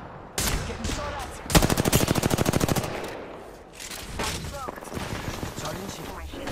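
Gunfire from an enemy squad in a battle-royale video game: a single loud shot, then a rapid automatic burst of evenly spaced rounds lasting over a second, followed by scattered lighter shots and game noise, with voices talking throughout.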